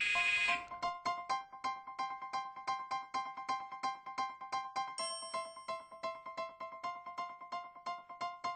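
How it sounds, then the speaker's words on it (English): An electronic buzzer or timer tone sounds to start a timed classroom activity, a fast train of regular beeping pulses that shifts pitch partway through, clear and close with no talk over it. "we will start at the sound of the buzzer"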